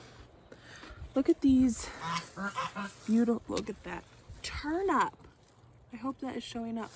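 Geese honk in short, uneven bursts near a half-in-ground garden greenhouse, mixed with wind noise. Someone talks through and between the calls.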